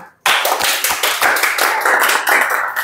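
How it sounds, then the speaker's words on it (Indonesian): Students applauding in a junior high school classroom, a burst of close, uneven hand claps that starts suddenly and continues loudly throughout. "Ayo kasih tepuk tangan."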